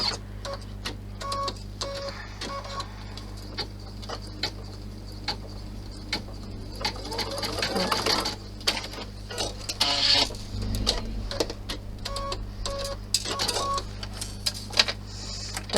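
A home sewing machine stitches the corner of a purse, a run of rapid ticking needle strokes over a constant motor hum, with brief pauses and a few faint beeps, close up with no talk.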